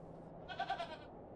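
A black goat in the game Hob's Barrow lets out a single short, wavering bleat, faint and slightly distant, with no talk over it.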